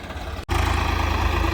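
A Swaraj tractor engine runs with a 16-foot trolley hitched behind. A brief cut gives way to a loud, steady, throbbing idle-like rumble that continues without pause.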